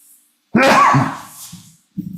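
A single sharp sneeze bursts out close by, followed by a brief gasp and a couple of short vocal sounds.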